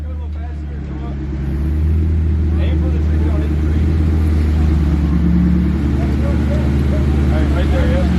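Jeep engine grinding and rumbling loudly while crawling over a rock slab on an off-road trail at Uwharrie, rising after a couple of seconds and holding steady, with people talking over it.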